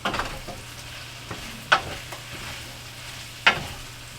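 Ham and cabbage stir-frying in a pan with a steady low sizzle, punctuated by two sharp clattering stirs or scrapes of a utensil against the pan, no talking.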